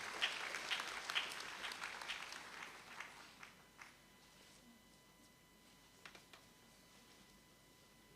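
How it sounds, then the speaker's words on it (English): An audience at a university congregation session applauds to welcome the chairman of council, a moderate burst of clapping that thins out and fades to scattered claps and quiet after about four seconds. "Shall we, with a round of applause, invite the chairman of council"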